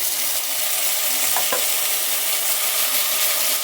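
Onion and garlic sauté in hot oil in a pan for a karuvaattu kuzhambu, a loud constant sizzle with a couple of brief stirring scrapes near the middle.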